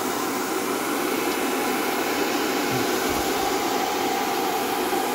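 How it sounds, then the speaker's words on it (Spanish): A handheld hair dryer blows hot air steadily onto the back cover of a Samsung Galaxy S7 Edge phone, a loud, constant close-up whoosh with a fan whine beneath it and no talking. "calentamos 3-4 minutos la tapa con un secador"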